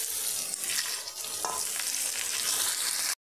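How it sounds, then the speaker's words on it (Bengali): Potatoes and coconut fry with grated papaya in a pan for a vegetarian papaya ghonto, giving a loud, dense sizzle with stirring scrapes throughout before cutting off abruptly at the end. "আলুগুলো আমি একটু ভালো করে ভেজে নেব"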